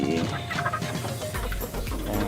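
Chickens clucking close by, with a busy mix of bird sounds and some rustling throughout.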